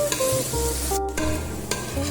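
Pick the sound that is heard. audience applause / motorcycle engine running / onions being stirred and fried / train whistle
onions being stirred and fried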